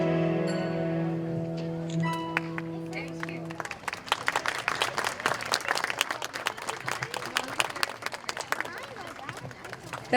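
At an interfaith music festival, the last sustained notes of a performance fade out and a hall audience breaks into loud, dense applause. The clapping stays steady and close for several seconds, with a little crowd murmur underneath.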